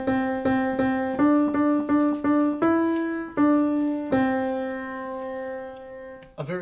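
Hot Cross Buns played as a simple three-note melody moving in whole steps, each note struck cleanly and left to ring and fade, with a brief rustle at the very end.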